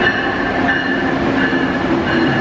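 An Amtrak passenger train rumbles and rolls steadily close by, a continuous loud rail noise with wheel hum and a faint sustained squeal, no voices.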